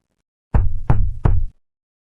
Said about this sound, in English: around 3:03 a.m., came a knock at the door